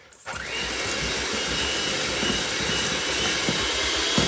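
An electric mixer beats cookie dough with brown sugar for a banana oatmeal cookie batch, switching on after a brief quiet start into a steady, loud whirring drone that runs without a break.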